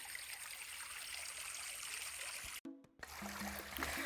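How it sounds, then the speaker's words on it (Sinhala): A small, shallow stream trickles steadily outdoors near a reservoir, its continuous light babble close by, with a brief gap and a few faint tones near the end. "මං කිව්වා චූටි දියාලක් වගේ යනවා කියලා."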